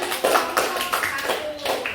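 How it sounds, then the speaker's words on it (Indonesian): A classroom group claps in short uneven bursts of hand claps, close and moderately loud, with voices mixed in. "Tepuk tangan."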